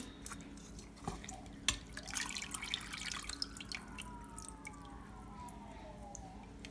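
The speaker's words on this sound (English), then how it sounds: "Okay, so our pods are soft, they're ready. Just strain them." Water splashes and drips into a sink as soaked, softened chile pods are strained, with a faucet running and trickling liquid sounds, plus a brief clatter and a rising whine.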